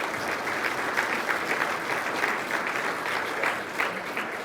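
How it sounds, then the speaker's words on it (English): Breakfast crowd at a chamber of commerce event clapping for the sponsors, a full, even round of applause sustained from start to finish. "can we just give them a round of applause and a thank you?"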